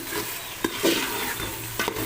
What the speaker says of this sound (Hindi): ये देखिए फ्रेंड्स, हमारी चिकन से भून चुकी है। अब मैं इसमें अपने मसाले ऐड करूँगी।